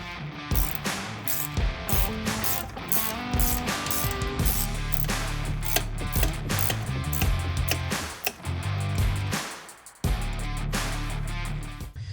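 A 7 or 8 millimetre bolt being removed from the oil pressure sending unit of a Porsche 944 Turbo, with close, busy ratcheting clicks and metallic clatter that continue in dense bursts with short pauses.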